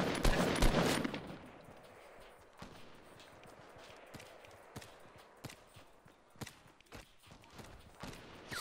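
Fortnite gunfire, a quick loud burst at first followed by scattered sharp single shots spaced out over several seconds, mostly faint against a quiet background.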